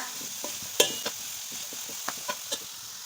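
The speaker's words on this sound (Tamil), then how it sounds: "கேரட்டை சேர்த்துட்டு நம்ம சேர்த்த நெய்யிலே ஒரு 5 நிமிஷத்துக்கு நல்லா வதக்கிக்கோங்க" Grated carrot sautés in ghee in a pan, a low hiss under a scattering of distinct spatula taps and scrapes, close and quiet, no voices.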